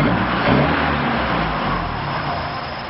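An MG car, started under the bonnet from the fuse box, runs with a steady engine rumble that stays loud and close, rising slightly early on, then easing into an even idle.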